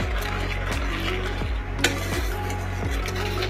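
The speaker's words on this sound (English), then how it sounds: "And keep stirring." Homemade hair removal wax stirred in a pan, a soft continuous scraping and bubbling texture with faint clinks, steady throughout under a low constant hum.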